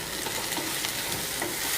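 Chopped onions fry in hot oil with a little salt while pepper chicken is being cooked, giving a steady, close, dense sizzle and crackle that fills the whole short stretch with no voices.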